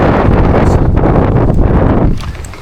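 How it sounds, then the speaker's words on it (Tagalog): Strong wind buffets the microphone with a loud, rumbling roar that eases slightly near the end. "Mahangin na."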